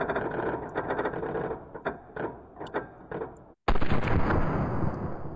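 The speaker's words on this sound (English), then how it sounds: "First round is fired." A Gatling gun in World of Guns fires a rapid string of sharp mechanical shots, then goes silent for a moment before a loud burst resumes.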